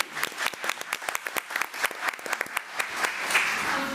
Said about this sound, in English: Let's give Hunter a big round of applause